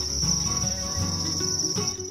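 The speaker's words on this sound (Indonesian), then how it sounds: "Markaban membudidayakan jangkrik di rumahnya." Crickets farmed at home as songbird feed chirp in a constant high shrill trill close by, with soft low rustles and clicks beneath the steady insect song.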